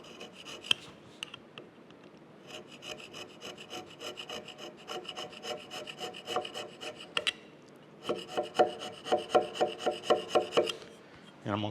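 Hand scraper rasping across the cast iron dovetails of a Monarch 10EE lathe cross slide, a run of close, repeated scraping strokes that pause briefly, then resume in a quicker rhythmic series, loud and alone.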